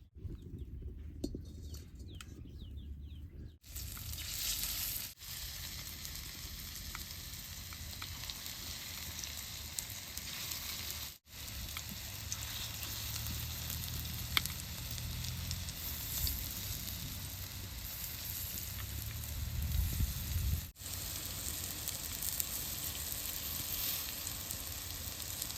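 Oil sizzles in a hot wok while arum flower fritters are fried, a steady close frying hiss with short breaks and a little louder crackling partway through, no voices.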